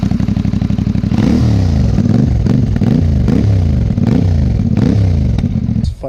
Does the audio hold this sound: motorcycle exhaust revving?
yes